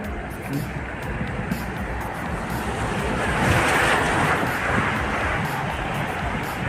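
Loud, steady roar of rushing flood water fills the scene, nearly reaching a bridge, a broad churning wash with wind buffeting, swelling slightly midway and never letting up.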